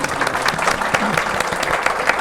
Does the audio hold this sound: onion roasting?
no